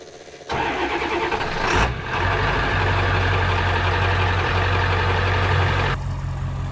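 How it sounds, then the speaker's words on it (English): A modified 7.3L Powerstroke diesel truck engine cranks over in the cold and catches, then settles into a loud, rumbling diesel idle that carries on steadily. "I'm gonna let you guys take a look at that while I start the truck."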